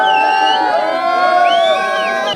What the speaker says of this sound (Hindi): भीड़ है इस वक्त यूथ की, लोगों की जो उमड़ के आई है देखने के लिए